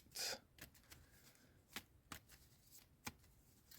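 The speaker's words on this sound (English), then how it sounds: "Just going to shuffle these up a little bit, move them around." Soft, close shuffling of tarot cards: a brief riffle burst followed by scattered quiet flicks and slides of cards.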